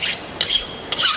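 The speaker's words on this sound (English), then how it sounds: "Deburr it." A file rasps back and forth over a metal piece clamped in a vise to deburr it, three quick close strokes in a steady rhythm, loud and alone.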